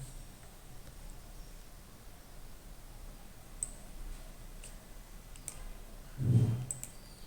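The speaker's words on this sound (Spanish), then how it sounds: "doble clic" Mouse double-clicks while a formatting tool in a spreadsheet or document program is being used: a few faint, sharp clicks scattered through a quiet room, with a soft low thump near the end.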